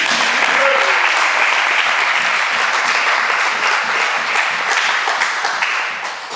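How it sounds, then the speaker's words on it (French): A church congregation breaks into sustained, dense applause after a scripture reading at a French-language sermon, steady loud clapping that fills the room from start to finish and fades slightly at the very end. "Est-ce qu'on peut acclamer la parole du Seigneur?"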